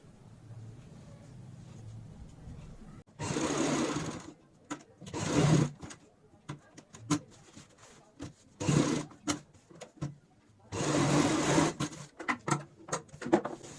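A sewing machine stitching a cushion cover runs in several close bursts of rapid whirring, separated by pauses with small handling clicks.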